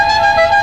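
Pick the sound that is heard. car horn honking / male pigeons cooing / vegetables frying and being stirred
car horn honking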